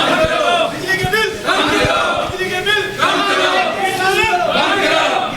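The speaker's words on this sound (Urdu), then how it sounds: "پشاور میں گنج اور ملحقہ بازاروں کے تاجروں نے بھاری بلوں کے خلاف احتجاج کرتے ہوئے حکومت کے خلاف نعرے بازی کی۔" Protesting traders from Peshawar's Ganj and nearby bazaars chanting slogans against the government over heavy electricity bills, a loud crowd of voices in repeated rhythmic shouts, continuous and close.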